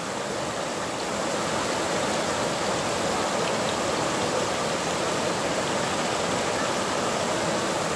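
Cold river water rushing steadily after a night of rain, a broad continuous hiss of flowing water, loud and close, with no let-up and no voices.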